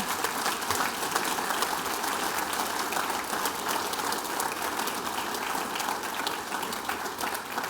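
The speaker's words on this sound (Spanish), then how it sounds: "Suelte un aplauso, celebre esta verdad" A church congregation applauds in a dense, even patter of many hands that keeps up steadily from start to finish without a break.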